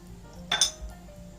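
A metal spoon clinks briefly against a pot a couple of times while rice flour is stirred into milk for dudh puli pitha, a quick close pair of light taps over a quiet kitchen hum.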